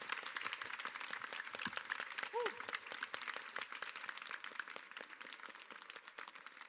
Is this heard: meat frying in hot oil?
no